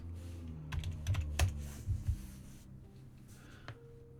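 Quiet computer keyboard typing up close, a short cluster of soft key clicks and thumps over a low room hum, tapering off into silence with one last tap.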